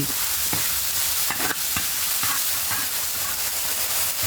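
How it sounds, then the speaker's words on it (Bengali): Spices and spider fruit sizzle and crackle in a hot wok while being stirred, a constant loud frying hiss broken by repeated scraping and knocking strokes of the spatula. "তড়কা দেওয়ার জন্য একটি কড়াইয়ে বিভিন্ন মশলা এবং মাকড়সা ফল ঢেলে ভালোভাবে নেড়ে নেওয়া হয়।"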